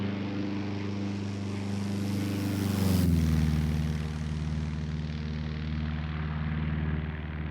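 A Cessna 150 sweeps past in a flight simulator game: a loud, droning propeller engine hum builds, peaks, then drops in pitch as the plane passes close by and fades away.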